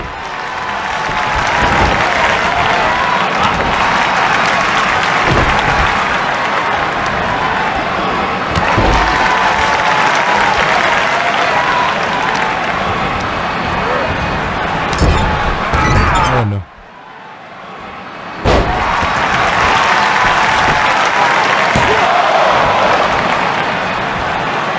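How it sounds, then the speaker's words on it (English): In the WWE 2K23 wrestling video game, an arena crowd applauds and cheers loudly and steadily. The crowd noise drops out briefly partway through, then swells back, and a voice talks over it. "Who do you think the home fans are cheering for?"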